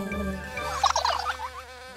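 Cartoon robotic mechanical bees from the Mecanimais cartoon buzz in a busy swarm on Tulip Island, a bright jittery whirring that swells and fades over a low background hum.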